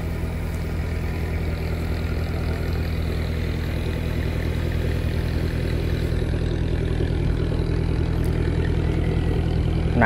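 A Komatsu PC100-3 excavator's diesel engine idles, a loud, steady low rumble with a constant throb running throughout without talk.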